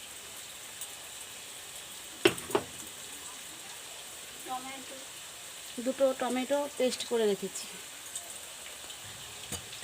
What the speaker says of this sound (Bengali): আমি আলুটা এবার লাল লাল করে ভেজে তুলব